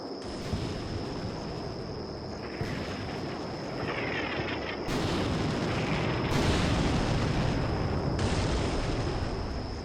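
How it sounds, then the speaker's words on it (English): Tank and artillery fire in the Combat Mission Black Sea video game, a dense wall of booming blasts and rumbling explosions that grows louder partway through, with a steady high-pitched tone running throughout. "Mass tank fire."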